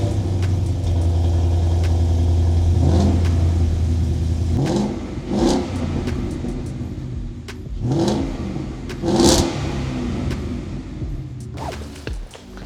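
A car engine, apparently a Mustang, rumbles at idle and then revs repeatedly with loud, throaty exhaust bursts, close and powerful with uneven blips of rising and falling pitch.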